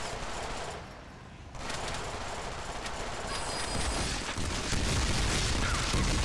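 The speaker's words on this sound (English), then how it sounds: "And the last time I died, there was just a bunch of explosions." Dense gunfire and explosions from the Deadpool video game roar continuously and loudly, with a brief dip before the barrage resumes and builds heavier.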